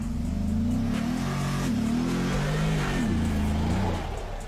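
A car, one of several Kia, Hyundai or Mazda models, accelerates on snow with a steady, heavy engine drone rising and falling in pitch as the throttle is worked, continuous and fairly close.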